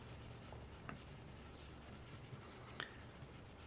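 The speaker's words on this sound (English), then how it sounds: "I'm going to go ahead and shade this in." A black colored pencil shades on paper in a steady, soft scratching rub that continues for several seconds, close and quiet, with a few slightly sharper strokes.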